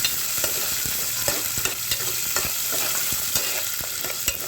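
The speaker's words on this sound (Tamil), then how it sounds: "வெங்காயம், நல்லா மிக்ஸ் பண்ணிக்கலாம்." Onions and green chilli frying in oil for a Tamil fish curry, a steady sizzle with frequent quick spatula scrapes and taps in an irregular rhythm, close-up with no one talking.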